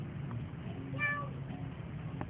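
A voice imitates a cat with one short, quiet meow that rises and falls, set against a low indoor background hum, with no other voices over it.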